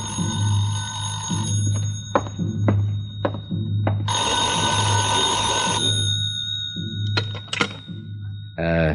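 An electric telephone bell rings in a vintage radio detective drama, a sustained ring in the middle and shorter bursts with clicks around it, over a steady low hum with no talking.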